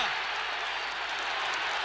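A rugby stadium crowd roars and applauds for a South Africa try against the British Lions in a 1974 Test match, a dense, sustained wash of cheering with no break.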